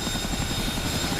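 A Chinook tandem-rotor helicopter in the DCS flight simulator gives a steady rhythmic thudding of its rotor blades over a continuous engine whine, loud and close throughout the short moment.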